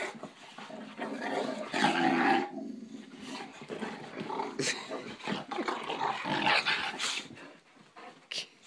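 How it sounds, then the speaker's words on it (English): Dogs growl and snarl playfully on waking in the morning, with continuous rumbling growls, yips and scuffling at close range over several seconds. "Crazy dogs."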